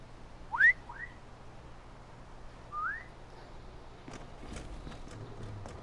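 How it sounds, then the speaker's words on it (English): Someone gives a few short rising whistles, two quick ones then a single one after a pause, fairly clear over a quiet background with faint hoof-like clops and shuffling toward the end. "It was just a whistle."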